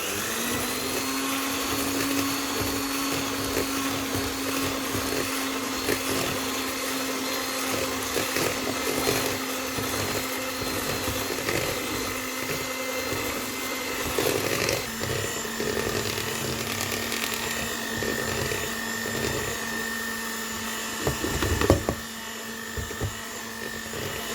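An electric kitchen mixer beating batter for a lemon yogurt dessert runs steadily with a constant motor whine, loud and close, with brief clatter and a sharp knock near the end.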